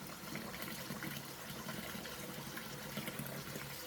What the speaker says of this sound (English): Throw the waters and continue washing until the water is clear.